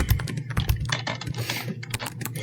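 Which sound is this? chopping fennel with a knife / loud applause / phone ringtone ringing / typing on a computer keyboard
typing on a computer keyboard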